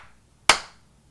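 A single sharp hand clap, close and loud, ringing briefly in a quiet room at a miniature painting lesson.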